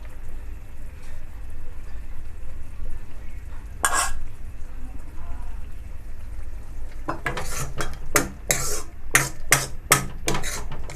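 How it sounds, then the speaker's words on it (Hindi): Masala for a mutton kidney (gurda) dish roasting in oil, with a soft background sizzle, one clank, then a quick run of sharp metal spoon knocks and scrapes against the pan near the end. "अब हम इसकी ऑयल में भुनाई करेंगे"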